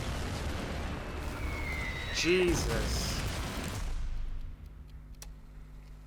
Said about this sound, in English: that explosion and all those explosions does in fact exist